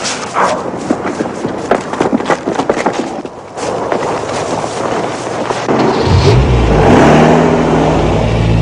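After a stretch of scattered clattering sounds, a car engine starts up and revs loudly as the car pulls away, its droning roar rising and holding near the end.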